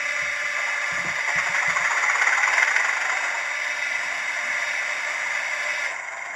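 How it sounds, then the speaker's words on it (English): A Hornby TTS sound decoder in an OO gauge Class 31 diesel locomotive model starts up and settles into a steady idle, with a few soft clunks early on and an even hum. "I'd set the primer going and then start the engine up"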